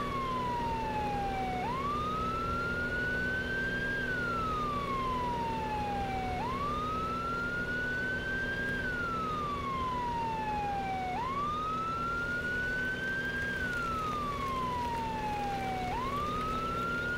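Ambulance siren from a fire company mod in the Farming Simulator 17 video game, wailing up and down in slow regular sweeps over a low engine drone, steady and continuous with no talking.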